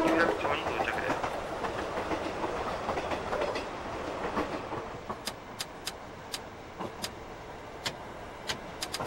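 A Yamanote Line train in a train simulator game rolls into Yurakucho station, a rumbling run that eases off into slow, evenly spaced clicks of wheels over rail joints.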